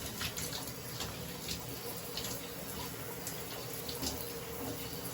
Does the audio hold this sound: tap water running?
yes